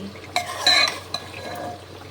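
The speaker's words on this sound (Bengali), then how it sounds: "আলুটা ভাজছি শুধু" A steady low sizzle of potatoes frying in a pan, with a few metal clinks from a spoon stirring.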